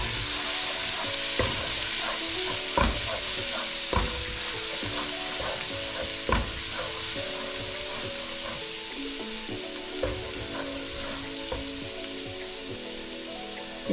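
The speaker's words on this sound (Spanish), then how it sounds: "le echamos la cucharada de ajo triturado que tenemos aquí. Lo ponemos a freír." Crushed garlic frying in hot oil sizzles steadily and loudly, broken by occasional stirring clacks of a utensil against the pan.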